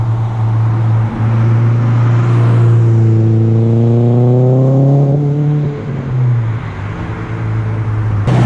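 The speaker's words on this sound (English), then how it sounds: "I can hear a Subaru WRX actually driving by right now, that unequal length header" A Subaru WRX with an unequal length header passes nearby, its uneven boxer rumble rising in pitch as it accelerates, then fading away with steady engine drone.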